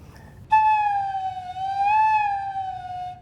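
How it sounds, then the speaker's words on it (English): A single breathy tone from a flute head joint played alone, close, holding a sustained pitch that bends slightly down and back up. "So I'm going to play just a little bit for you on the head joint"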